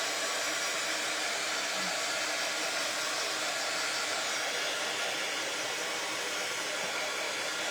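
A hair dryer blows continuously on freshly painted wooden bunny kit pieces, a loud, steady whooshing roar heard up close with no talking.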